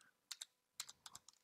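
Quiet computer keyboard typing: a few scattered, sharp keystrokes in short bursts, close and soft, with no voices.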